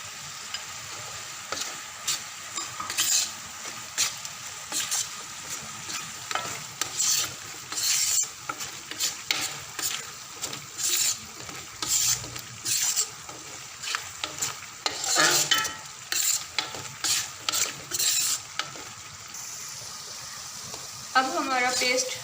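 A spoon scrapes and stirs spiced masala paste of turmeric, red chili and dried coriander roasting in a pan, in steady rhythmic strokes over a soft sizzle, loud and close, with no talking.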